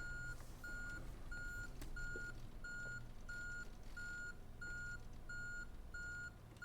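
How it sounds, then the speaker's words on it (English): A bus reverses off a stand in the OMSI 2 bus simulator, its reversing alarm beeping steadily in an even repeating rhythm over a low idling engine drone, quiet and with no talk. "let's get reversing off the bus stand"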